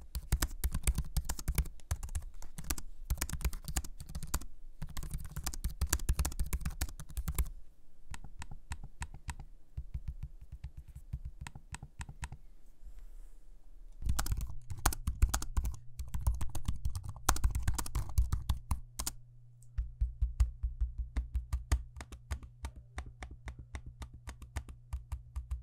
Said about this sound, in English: That is typing on the keyboard and using the trackpad